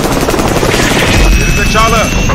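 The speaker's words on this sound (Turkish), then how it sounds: "Helikopter geldi." A TikTok helicopter gift sound effect plays loudly, with a chopping rotor drone and engine whine, and voices talk over it.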